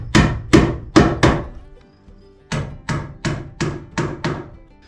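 Staples driven into electrical wire against a wooden chase make sharp, loud wooden whacks, four quick strikes, a short pause, then five more in a steady rhythm, alone and close up.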